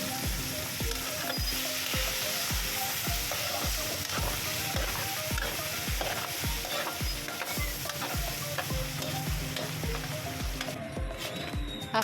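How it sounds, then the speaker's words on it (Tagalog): Small pieces of pork fry in a pan for pancit bihon, a continuous hiss of sizzling oil under regular, rhythmic scraping strokes of a spatula stirring, close and steady throughout. "ipiprito natin ang ating maliliit na pork."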